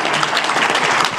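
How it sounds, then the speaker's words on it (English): An audience at a business presentation applauds, a dense, loud burst of clapping that fills the whole short moment. "Give him a round of applause."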